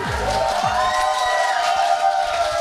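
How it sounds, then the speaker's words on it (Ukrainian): A crowd cheers and whoops over loud music at a dance contest, with scattered clapping and a lively, steady roar throughout. "Оплески дівчатам, оплески дівчаткам."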